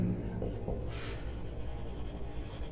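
Marker or chalk writing on a board, faint scratchy strokes with a brief louder rub near the start, quiet and close in a classroom setting.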